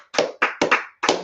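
Hands clapping in a rhythmic group clap, four sharp, loud, close claps with brief gaps between them, no speech.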